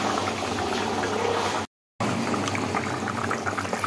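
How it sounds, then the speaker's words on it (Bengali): Goat liver, fat and trotter curry with potatoes boils in a pot, giving off a steady close bubbling and gurgling, briefly cut by a moment of silence before the bubbling resumes. "এতক্ষণ এই যে আমাদের ঝোল সুন্দর করে ফুটছে টকবক টকবক করে।"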